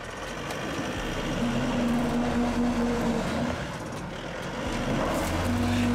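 Isuzu D-Max pickup truck engine laboring as it climbs an off-road obstacle, a steady close rumble with a faint whine rising under added throttle and wind-like noise throughout.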